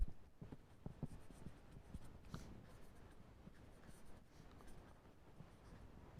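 Chalk or marker scratching on a board during a lecture on thermionic generation, a faint series of short strokes and taps in an irregular rhythm over a quiet room.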